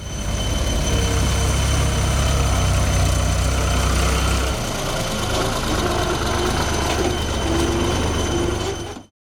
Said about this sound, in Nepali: दैनिक ट्र्याक्टर तथा टिप्पर निरन्तर सडक खण्डका बालुवा, गिटी बोकेर ओहोर दोहोर गरिरहेका भेटिन्छन्